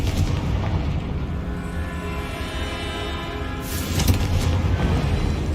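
A Confringo blasting spell explodes in Hogwarts Legacy: a dense, rumbling roar fills the scene, and a sharper blast swells near the end, loud and close.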